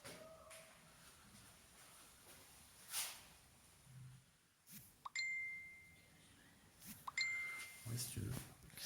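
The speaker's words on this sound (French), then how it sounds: "Qui c'est qui m'envoie des notifications?" A phone notification ding rings out inside an architecture school building, a couple of short bright chimes around the middle and near the end over quiet room ambience and scattered handling noises.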